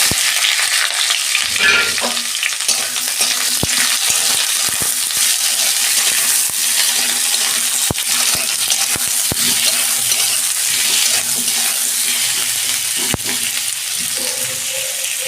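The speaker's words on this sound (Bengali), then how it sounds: "এই টমেটোগুলো দিয়ে দিচ্ছি আমি তেলে।" Chopped tomatoes frying in hot oil with black cumin, a dense close sizzle with spatula stirring and scraping clicks throughout, no voices.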